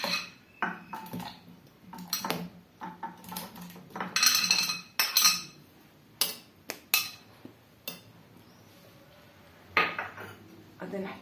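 Strawberries dropped into a Moulinex blender jar, producing irregular close clinks, taps and clatters of fruit, utensils and plastic, with pauses between bursts and a low voice at times.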